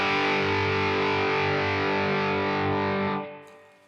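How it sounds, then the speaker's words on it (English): An electric guitar plays through a Strymon Riverside overdrive pedal with a more open, driven tone. A single loud chord sustains steadily, then decays and is choked off toward the end. "And then for the majority of the set, I use the Riverside here by Strymon."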